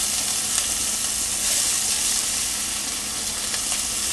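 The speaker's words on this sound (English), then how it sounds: "take those ingredients and put them on a pan and let them sort of cook together" Ingredients for a faux bolognese sauce sizzling together in a pan, a loud, dense and continuous frying hiss with faint crackles and a few light stirring knocks, close up and with no voices.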